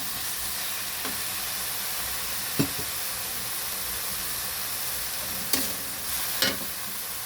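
Pork binagoongan with vegetables such as winged beans sizzles steadily in a pan while it is stir-fried. A few sharp utensil clacks against the pan stand out over the constant frying hiss, with no talking.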